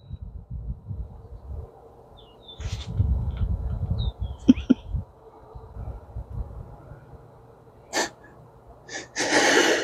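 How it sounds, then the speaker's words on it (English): Sneezes outdoors during yard cleanup around trees, with a few sharp bursts spaced across the stretch and a louder one near the end, over low rumbling background noise and faint birdsong. "Every time I go outside, I start sneezing."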